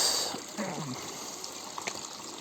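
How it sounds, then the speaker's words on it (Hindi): Spring water pours steadily from a pipe in a Himalayan mountain village in Tehri Garhwal, a soft continuous rushing splash at moderate distance with faint sounds of people nearby. "ये भी एक झरने का ही पानी गिर रहा है। इधर भी पाइप लगा हुआ है"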